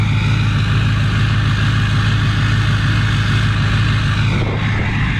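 Duramax LBZ diesel pickup engine at high idle after a cold start without glow plugs, a loud, steady, deep droning rumble close by, dipping briefly near the end.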